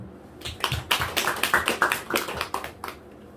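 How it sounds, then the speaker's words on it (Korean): A church congregation at a Sunday service breaks into applause, a dense patter of many hands clapping in a reverberant room, swelling briefly and then thinning out over a few seconds, with no voices on top. "박수요"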